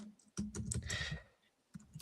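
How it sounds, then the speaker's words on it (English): Quick bursts of computer keyboard typing, clustered key clicks close by with a short pause before a few more taps, no talking over them. "I was typing it down"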